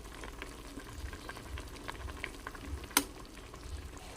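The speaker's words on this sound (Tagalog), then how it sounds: "so hayaan lang muna natin kumulo ito" Chop suey with patola (sponge gourd) simmering in a pot, giving a steady soft bubbling and sizzling texture close by, with one sharp click partway through.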